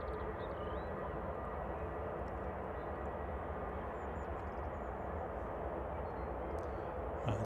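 Jet aircraft engines idle at Manchester Airport as several jets wait to depart, a steady distant roar holding evenly throughout with no other sounds over it.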